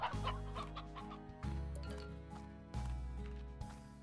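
Chickens cluck in the Slime Rancher video game, bright repeated bursts of clucking layered over looping game music with a strong low pulse, arriving in about three clustered phrases at close range.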